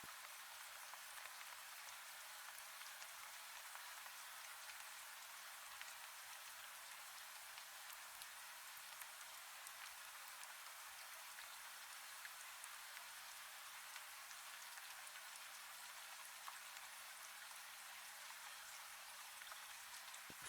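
Steady rain falling, a dense continuous hiss of raindrops with no distinct gaps, even and moderately soft throughout with no voices.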